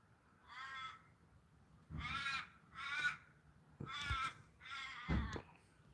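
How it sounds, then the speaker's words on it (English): A crow caws in five separate bursts of harsh calls spaced about a second apart, close and fairly loud, with no talking over them. "The crow, the crow."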